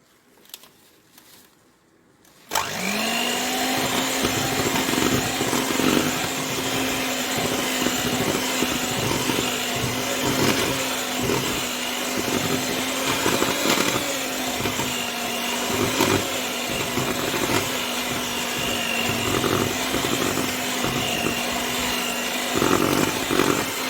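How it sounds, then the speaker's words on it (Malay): An electric mixer runs at low speed through cookie dough with cocoa powder, starting abruptly after a near-silent moment and holding a steady whirring drone with a faint tonal whine throughout. "Mixer juga ya, mixer jangan kuat sangat ya, mixer perlahan saja dia punya speed tu ya."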